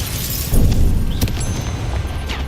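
The Bombarda spell goes off in Hogwarts Legacy as a loud booming blast with a crackling, shattering tail, followed by a few sharp impacts in a busy combat mix.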